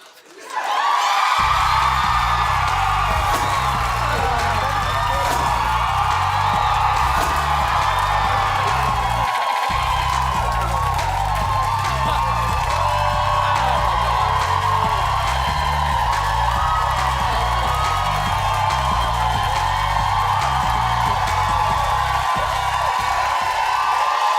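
Studio audience of a daytime talk show cheering, whooping and shouting continuously, a loud sustained crowd roar with a steady rhythmic beat underneath.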